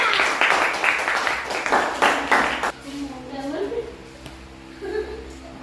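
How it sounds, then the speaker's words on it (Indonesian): A group of children in a classroom claps in several quick bursts, then stops as a voice speaks over a quiet room. "Tepuk tangan semua."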